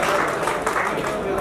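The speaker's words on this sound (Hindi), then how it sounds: "एक बार तालियां हमारे चीफ गेस्ट के लिए।" An audience at an annual day celebration claps for the chief guest, a dense, steady patter of many hands throughout, with speech mixed underneath.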